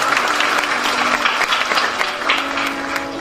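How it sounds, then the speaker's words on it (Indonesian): An audience applauds at a religious lecture in Jogokarian, a dense burst of clapping from a crowd that holds steady for a few seconds, loud and close. "Tepuk tangan buat warga Jogokarian."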